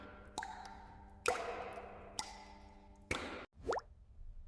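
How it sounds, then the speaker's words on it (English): Brine drops plop irregularly off young cheese wheels resting on racks in a dairy, a few distinct wet drips ringing out close and quiet against a still, hushed room. "the wheels are laid on racks so that excess brine can drip off"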